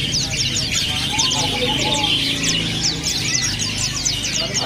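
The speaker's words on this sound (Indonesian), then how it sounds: "Selanjutnya ada juga burung pleci pacitan." Quick, sharp chirps from a Pacitan pleci white-eye rise over a busy bird shop's background din of other caged birds, with clucking fowl and a low murmur beneath.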